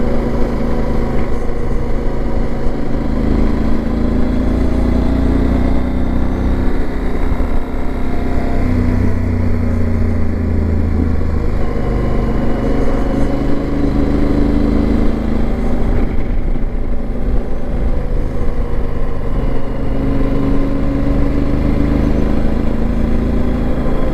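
Steady drone of a touring motorcycle engine riding a road near Puerto Vallarta, Mexico, after mountain riding, a constant hum mixed with wind rush throughout, no talking.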